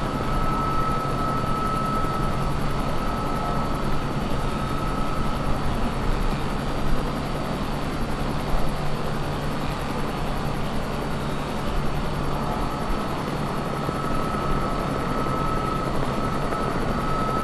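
A Bell 206B-3 helicopter drones steadily, its rotor and turbine hum holding at an even, loud level with no voices over it.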